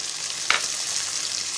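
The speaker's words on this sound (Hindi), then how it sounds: "अब मैं इसमें 2 अदद टमाटर बारीक कटे हुए डाल रही हूँ।" Finely chopped tomatoes tipped into softened, lightly browned onions in a frying pan, giving a brief soft thump followed by steady close sizzling and frying with no talk.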